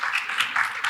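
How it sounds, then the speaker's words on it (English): Audience applause at a web developer conference in Porto, cheering on the emcee: a brief, steady wash of many hands clapping, fairly loud and close, with no pauses. "give a huge round of applause for him"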